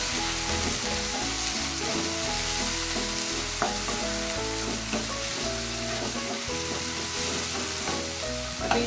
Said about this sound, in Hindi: अब इसमें हम टमाटर डाल देते हैं जो कट करके रखे हैं